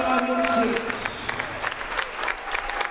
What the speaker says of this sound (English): the crowd, as you can hear, is in full throat here in Salina